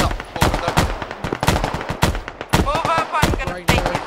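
Bursts of automatic rifle fire in Arma while a section suppresses an upper-floor window, sharp repeated cracks in quick strings with brief gaps, close and loud, with faint voices underneath.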